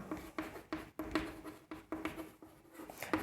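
A pen or chalk scratches on a board or paper during a maths lesson, a quiet series of short rhythmic strokes and taps, close and faint.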